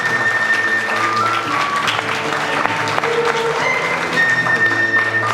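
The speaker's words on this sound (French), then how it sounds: "Et on les applaudit bien fort, nos 10 candidats à l'élection Miss Beauté Noire" An audience applauds the ten candidates at a Miss Beauté Noire pageant, with sustained, fairly loud clapping under a steady background of music tones throughout.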